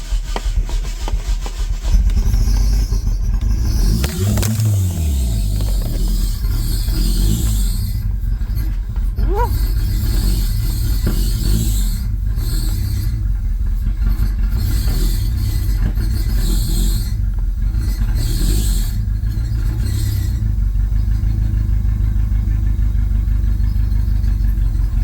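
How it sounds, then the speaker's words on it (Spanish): A Mitsubishi Eclipse GSX engine cranks and catches, then runs loud and close with a rough, unsteady idle as the throttle cable is pulled by hand, continuous and dominant with no talking. "Bueno, ahí arrancó, pero literalmente jalando el cable acelerador de acá"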